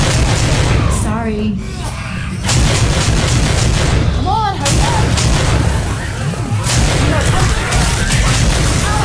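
Heavy automatic gunfire and booming shots ring out in Left 4 Dead 2 during the No Mercy campaign, in repeated bursts layered over a low rumble, with players' voices calling out between volleys.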